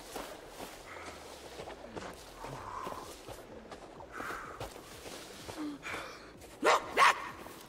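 A dog barks twice in quick succession near the end inside the survival video game Sons of the Forest, following a stretch of quieter footsteps and rustling ambience.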